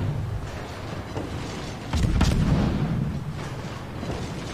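Naval gun salvos from warships in the World of Warships video game, firing into a smokescreen, with a heavier boom rising near the middle of a continuous rumbling battle soundscape.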